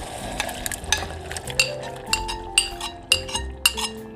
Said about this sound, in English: Now we're going to go ahead and add the tomatoes.